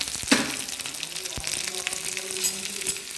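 Garlic and green chilli frying in hot oil in a pan for a Kannur-style lemon curry, a close, steady sizzle with a few sharp crackles and spoon clinks.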